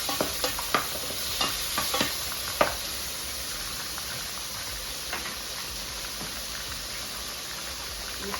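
Collard greens with onions, tomatoes, a little cooking oil and salt sizzle gently in a pan as a spoon knocks and scrapes in quick clusters early on, then the frying hiss carries on steadily.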